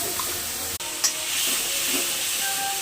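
Onion-garlic paste with dried chilli, nigella and cumin fries in oil, giving a soft continuous sizzle and hiss with a brief sharp click near the start, fairly quiet and without voices.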